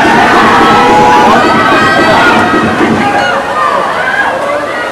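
Loud, dense crowd noise at a men's 4x50 m freestyle relay swim meet, with cheering and shouting over splashing water throughout and a voice audible in the mix.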